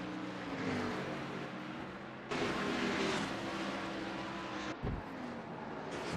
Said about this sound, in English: 2 drivers trying to overtake on the outside right here